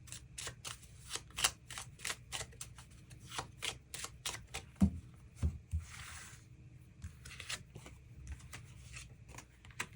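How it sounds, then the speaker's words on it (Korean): Tarot cards shuffled and drawn by hand, a run of quick crisp riffling flicks and soft slides close up, with brief pauses between bursts and no talking. "추가 카드 뽑아보도록 하겠습니다"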